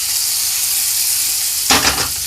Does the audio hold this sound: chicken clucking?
no